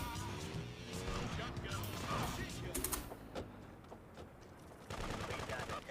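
Automatic machine-gun fire in Grand Theft Auto 2, dense rapid bursts mixed with game effects and a crash, with a voice talking over the shooting.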